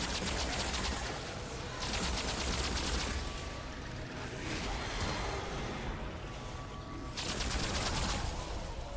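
Rapid bursts of gunfire ring out in the video game Remnant 2, several dense volleys of shots separated by short lulls, fairly quiet overall with no voices.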